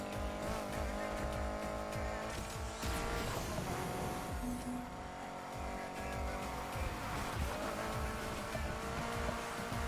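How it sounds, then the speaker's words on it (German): Racing car in Need for Speed Heat drifting through a corner, engine roaring loud and steady with tire squeal and skid noise woven in, over continuous game music. "Schöner Drift."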